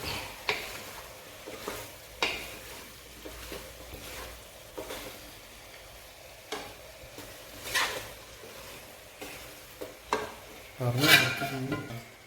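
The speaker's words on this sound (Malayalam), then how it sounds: "കൂർക്ക ഞാൻ ഇടാൻ പോകുന്നത്. നന്നായിട്ട് ഇളക്കുക." Pork and koorka (Chinese potato) fry in a pan while being stirred, giving intermittent scraping strokes and a clack or two over a soft continuous sizzle.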